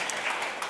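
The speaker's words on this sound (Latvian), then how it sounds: "Sagaidiet ar aplausiem." A brief burst of steady audience applause at a public-sector internal audit conference, welcoming a speaker to the stage.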